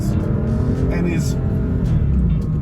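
Porsche 718 Boxster GTS 4.0 with its mid-mounted flat-six engine running, a steady, loud low drone that continues throughout without breaks, while a voice talks over it.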